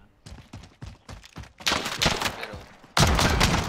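Shotgun blasts in a PC shooter game: sharp close reports in a quick irregular string, growing louder and denser, with a heavy burst at the end and game noise between shots.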